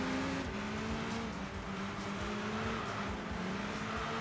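Naturally aspirated 2-liter inline-four engine from a Japanese-spec front-wheel-drive car in the Enthusia Professional Racing video game, revving high toward 8,500 RPM with a steady, loud, rising drone and no talk.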